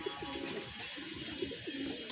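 Pigeons coo softly in a loft, a few low rounded calls repeating at an easy rhythm under a steady hiss of background noise.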